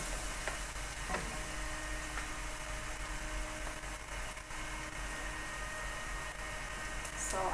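Egg hakka noodles sizzle in a hot pan as a steady, dense hiss that holds at an even level for the whole stretch, with only faint clicks and no voices.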